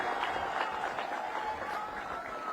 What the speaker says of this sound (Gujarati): જોરથી તાળી વગાડો જરા ધવલભાઈ માટે.